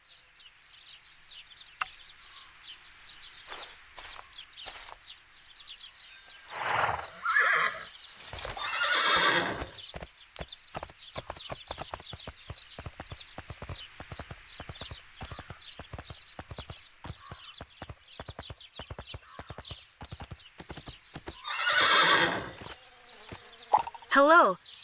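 Horse hooves clip-clop steadily across the countryside in the PC riding game My Little Riding Champion as the player heads to a training ground, a regular rhythm throughout with a couple of louder whinnies or snorts and faint insect buzz in the background.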